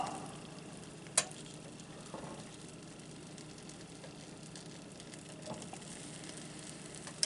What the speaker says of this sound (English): While you're cooking your omelet.